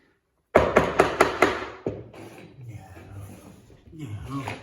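A hammer pounds logs into place during a log cabin build: five sharp, evenly spaced strikes ring out close and loud, followed by lower thuds and shuffling movement.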